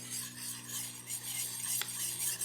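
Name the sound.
diamond sharpener filing a weeding tool's edge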